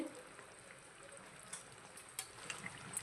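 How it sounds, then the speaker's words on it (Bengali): Bata fish curry with potato and aubergine boiling in a pot, a faint steady bubbling and soft liquid crackle with small popping ticks, close and quiet with no speech. "মাছটা দিয়ে আবারও 2 থেকে 3 মিনিটের জন্য ফুটিয়ে নেব।"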